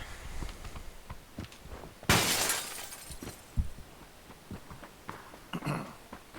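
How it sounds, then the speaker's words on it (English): In PUBG, a player character smashes through a glass window, a sudden bright shatter with trailing tinkles of glass, followed by footsteps and scattered thumps, close and fairly loud, with no talking. "you can just like push your way through windows"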